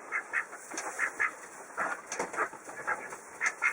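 Khaki Campbell ducks quack in a loose series of short nasal calls, several birds near and fairly faint over quiet background.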